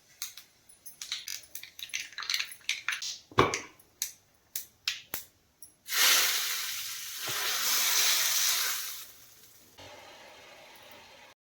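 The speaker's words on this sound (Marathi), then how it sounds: "जिरे आणि मोहरी अगदी साधी अशी सिंपल फोडणी केलेली आहे" Cumin and mustard seeds pop and crackle sharply in hot oil in a rapid series of small bursts, then a loud, close sizzle rises and gradually fades.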